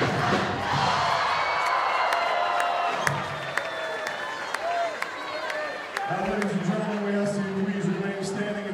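Crowd noise filling a packed high school gym at Mahoney Arena, North Side High School, during an Indiana boys basketball game: a steady murmur of many voices with scattered shouts, sharp claps and squeaks, swelling louder near the end.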